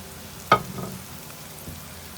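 Ground spices and garam masala fry in a hot pan with a steady low sizzle, broken by one sharp scrape or clink of stirring and a softer knock later, with no one speaking.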